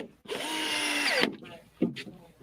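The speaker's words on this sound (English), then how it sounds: "And all they doing is just drilling it in." A power drill whirs loudly for about a second as it drives a screw into block pieces, then a brief second burst follows; the tool sounds close and dominates.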